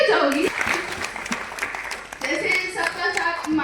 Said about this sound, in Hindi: क्या दीदी आप खड़ी होकर एक बार मेरे लिए ताली नहीं बजाओगी?